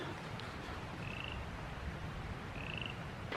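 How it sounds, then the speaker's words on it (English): Frogs calling near a full, flowing river, two short raspy croaks spaced apart, set against a steady wash of water noise and outdoor ambience. "Listen to those frogs."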